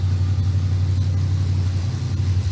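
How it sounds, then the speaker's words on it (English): Race car engine running with a loud, steady low rumble and droning hum throughout, a continuous far-off roar with no clear changes in pitch and no talk. "car sounds pretty good."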